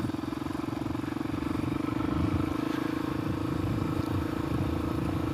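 Suzuki DRZ400S dual-sport motorcycle being ridden through a hayfield, its single-cylinder engine giving a steady throbbing drone with rushing wind and road noise, continuous and fairly close.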